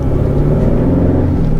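A 2022 Hyundai Sonata N Line heard from inside on the move near Westside Park in Atlanta, Georgia, with a loud, steady low engine and road drone and no talking.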